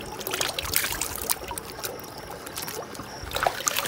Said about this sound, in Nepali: यस्तै पानीले भयो नि मुख त धुनै पर्यो